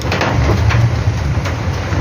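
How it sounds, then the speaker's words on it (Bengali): Heavy kalbaishakhi storm rain pours down near a river, a loud, dense, continuous hiss of rain with wind and no speech. "ঝড় বৃষ্টি এখন নামছে"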